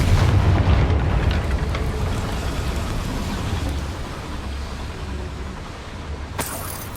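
A Confringo fire spell bursts in Hogwarts Legacy, a deep booming blast that rumbles and slowly fades, with a short sharp crack near the end.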